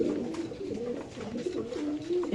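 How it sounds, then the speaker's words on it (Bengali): Steady, rounded cooing of racing pigeons at a pigeon farm repeats through the whole stretch, several birds close by with overlapping low warbles. "এটা সব কবুতর"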